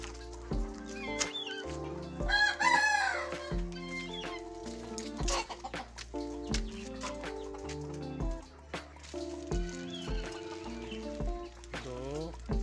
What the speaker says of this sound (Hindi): वो मुर्गियाँ साइड पे हो जाती हैं।